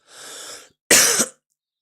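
A single sharp, loud cough, preceded by a soft breathy exhale, then silence.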